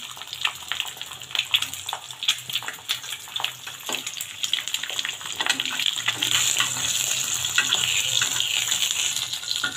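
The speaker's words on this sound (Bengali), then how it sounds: "এভাবে আমি সবগুলো ডিম ভেজে নিব" Half-boiled eggs sprinkled with pepper frying in a pan, a steady hiss and crackle that thickens and grows louder toward the end, close and with no voices.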